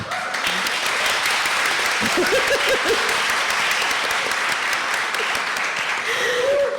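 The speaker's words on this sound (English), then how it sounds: "Please clap." A studio audience at a talk show gives loud, sustained applause, mixed with cheering voices and a few whoops.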